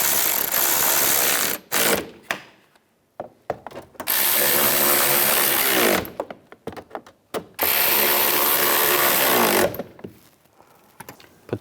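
Ratchet clicking in quick bursts as side mirror bolts are tightened down on a Chevrolet Silverado, several long runs of rapid pawl clicks separated by short pauses, close and loud with no talking.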